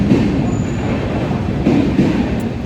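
Train rumbling through a railway station, a steady loud rolling drone with faint wheel clatter and a thin high squeal, no voices.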